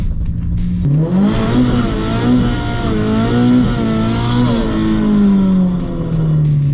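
A drift car's engine revs loudly and close as the driver kicks the clutch on a straight run, rising to a high sustained roar with wavering pitch that eases off at the end.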